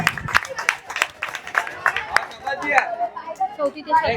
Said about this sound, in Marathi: जोरदार टाळ्या झाल्या पाहिजे जियासाठी